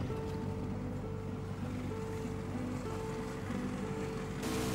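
Research boat out at sea towing magnetometers, a steady droning engine hum with a faint tonal whine over rushing water and wind, constant and fairly loud throughout with no voices.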